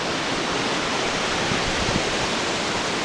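Steady, dense roar of a waterfall and cascading river in Patagonia in autumn, loud and close, a continuous broadband rush with no breaks and no voices.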